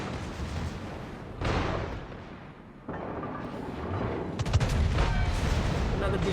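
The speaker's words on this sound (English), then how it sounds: "another decent little salvo" Booming salvos from the big guns of the battleship Atlántico in a naval video game, several heavy blasts with rolling rumble between them, some quite close and loud.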